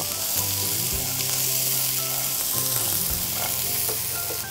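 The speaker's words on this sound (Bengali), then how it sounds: "দিয়ে দিচ্ছি সেদ্ধ ছোলাও" Boiled chickpeas frying in a hot pan give a loud, even, unbroken sizzle from start to end, with a faint low hum beneath and no talking.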